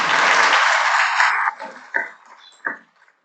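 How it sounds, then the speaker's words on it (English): A luncheon audience bursts into loud, dense applause for the president of the Greater Milwaukee Committee, then the clapping thins out within about a second and a half, leaving a few scattered claps and brief murmurs. "Please give him a round of applause."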